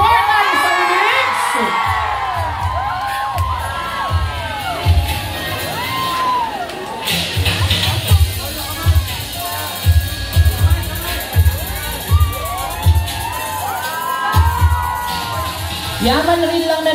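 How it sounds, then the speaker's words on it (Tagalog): A crowd of supporters at an awarding event in Aberdeen cheers, whoops and shouts in repeated loud bursts, with an amplified voice heard at the start. "pwede ko po ba marinig ang sigawan ng mga taga-suporta ng San Mix?"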